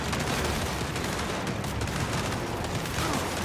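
Turret gunfire in Gears 5 combat, a dense continuous barrage of rapid shots and rumbling impacts at steady loudness, without talk.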